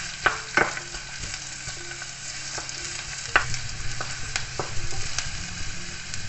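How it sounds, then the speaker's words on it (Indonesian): Chopped onions frying in a pan while a utensil stirs them, a steady close sizzle broken by occasional scraping knocks and clinks, no voices. "Kita aduk sampai bawang bombaynya wangi gitu ya."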